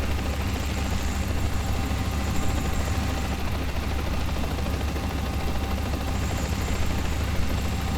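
A training helicopter in flight fills the cabin with a dense, constant rotor and turbine roar, steady and loud throughout with a throbbing low-end pulse and no speech.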